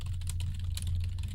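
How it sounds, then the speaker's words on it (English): Rapid clacking of a loud computer keyboard, close and steady, with a low hum running underneath and no talking. "I just wanted to try to type it up real quick"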